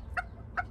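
A hen on a small farm gives two short, clear clucks spaced about half a second apart, fairly close, with no talking.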